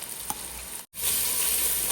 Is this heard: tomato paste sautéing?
yes